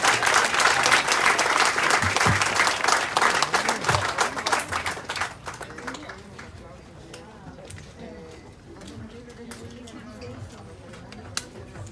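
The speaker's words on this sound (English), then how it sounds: "Let's give them another round of applause." Applause at a Veterans Day ceremony: a crowd claps loudly for about five seconds, then the clapping thins to scattered hands as voices and murmuring take over.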